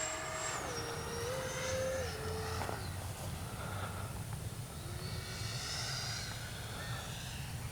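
A Freewing F-14A Tomcat twin 64 RC jet comes in to land, its faint ducted-fan whine sliding down and shifting in pitch over a steady airy rush of wind noise.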